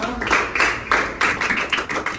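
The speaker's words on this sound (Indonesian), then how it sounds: "Kita beri tepuk tangan dulu semuanya." Classroom applause for a student group during a microteaching lesson, a short burst of scattered hand claps from a small group of people, fairly close, with uneven rhythm.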